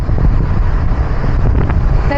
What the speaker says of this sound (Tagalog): Naririnig niyo siguro yung hangin.